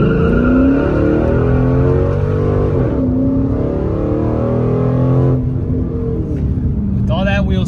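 Car with a DiabloSport Trinity T2 tuner accelerating hard with wheel spin in a 0 to 60 test, a loud sustained engine roar climbing through gear changes, close and steady.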